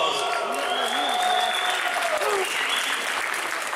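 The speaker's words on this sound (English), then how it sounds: "Give yourselves a round of applause." Crowd applauding in the packed Porterdale Memorial Gymnasium at a wrestling event, sustained roomy clapping with cheers and whistles rising above it, fairly distant and reverberant.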